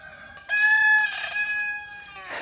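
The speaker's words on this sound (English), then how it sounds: "Those roosters." Roosters crowing on a farm, a loud nearby crow followed by another overlapping call and a fainter one near the end, with no talking.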